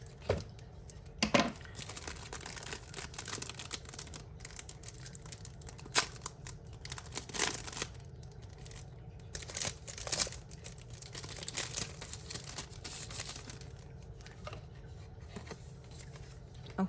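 Scissors and a box cutter slicing open the packaging of a new binder, with scattered sharp snips and crinkling, tearing plastic rustle, close and fairly quiet, no talking.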